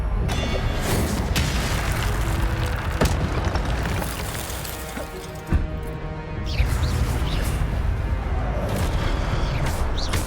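An Incendio fire spell in the Hogwarts Legacy video game lets out a loud, dense booming blast with a roaring, crackling fiery rush that fills the whole stretch, briefly dipping before surging again.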